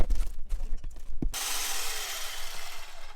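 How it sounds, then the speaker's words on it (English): Walnuts being crushed for a keto dessert in an RV kitchen: a few sharp cracks and grinding rubs early on, then a steady close, coarse crunching rasp that carries on alone. "His job is to crush the walnuts."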